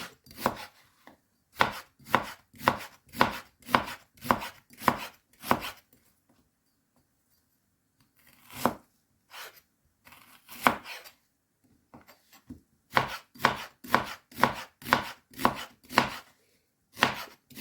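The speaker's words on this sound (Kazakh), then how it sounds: "Енді тамағымыз піскенше бір пиязды турап аламыз." A knife chops an onion on a board in quick, steady bursts of sharp taps, pausing briefly before resuming at the same brisk pace.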